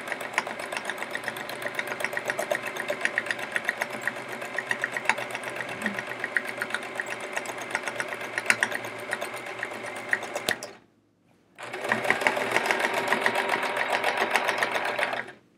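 A sewing machine stitches dense free-motion stippling on a chevron quilt, running in a fast, even needle patter that stops briefly, then starts again at full speed.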